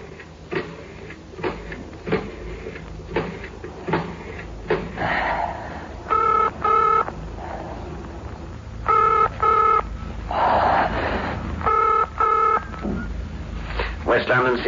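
A telephone is dialed in a 1960s radio drama, giving a series of short, close electronic dialing tones in quick bursts, mixed with clicks, tense breathing and sniffs.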